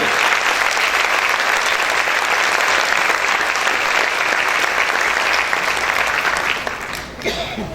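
A church congregation gives loud, sustained applause during a worship service, a thick wash of clapping that holds steady for several seconds before tapering slightly at the end.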